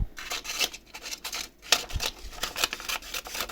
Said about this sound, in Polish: Zobaczmy, jak te nożyczki sobie będą radziły. Czy one w ogóle tną.